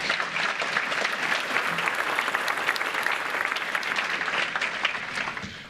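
Steady audience applause at a groundbreaking ceremony for a cancer building, a dense wash of many hands clapping at even loudness throughout, tapering slightly at the very end.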